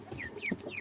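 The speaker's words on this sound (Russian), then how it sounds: "Вот 2 петушка там." Roosters cluck in a cage, a few short close calls with no one speaking.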